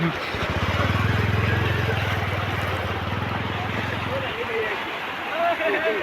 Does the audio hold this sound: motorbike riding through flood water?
yes